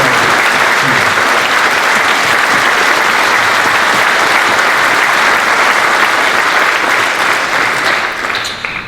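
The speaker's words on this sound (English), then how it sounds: "could I ask all of us, please, to give a round of applause to our cadets" Loud, sustained applause from a large gathering at a Great War remembrance service in the Shankill Road Spectrum Centre, a dense wash of clapping that holds steady for several seconds before tapering at the end.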